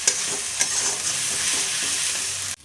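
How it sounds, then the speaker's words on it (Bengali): Spice paste of chili, ginger, cumin and coriander sizzles loudly in hot oil while being stirred, a steady crackling hiss with a few soft scraping knocks and a sharp clatter at the end. "এখন সুন্দর করে মশলাটা কষিয়ে নেব।"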